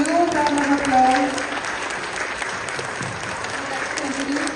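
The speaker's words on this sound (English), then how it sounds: "Let's give them a huge round of applause." An audience at a Grade 1 school assembly claps loudly at first, and the applause fades to a softer patter. A voice speaks over the start.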